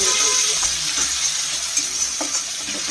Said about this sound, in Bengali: ভালো করে কষানো হচ্ছে